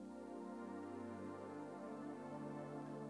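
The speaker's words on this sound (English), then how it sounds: "you can reshape it so that it's a nice mellow pad" A mellow keyboard pad with its EQ restored holds a soft, sustained chord, smooth and continuous with a gentle shift in harmony partway through, quiet and alone.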